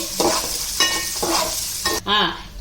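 Cabbage and carrot stir-fried in a pan for egg noodles, with a busy sizzle under repeated scraping stir strokes and a short squeaky scrape near the end.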